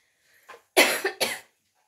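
Harsh, close coughing from someone with a cold: a faint throat catch, then two loud, rough coughs in quick succession in an otherwise quiet room.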